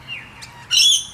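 A black-headed manorina at a bird sanctuary calls with a faint thin note followed by a loud, sharp burst of chirping squawks, close and alone.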